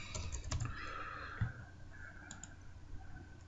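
Keys clack on a computer keyboard as text is entered into a text box, a loose run of close, quick clicks and taps with a couple of heavier strokes.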